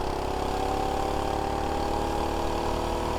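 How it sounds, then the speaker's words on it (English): A HoverHeart 99cc mini bike engine running at top speed, droning steadily and continuously at close range with a constant hum and no talking. "let's hit a top speed test on the HoverHeart 99cc mini bike"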